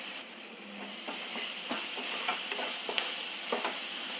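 Asafoetida sautéing in a pan with beetroot curry preparation: a steady soft sizzle and hiss, with occasional light spoon taps and stirring scrapes, close and moderately loud.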